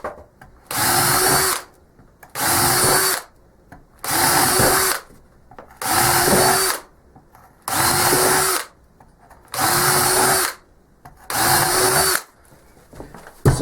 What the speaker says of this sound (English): I'm going to use a smaller drill bit.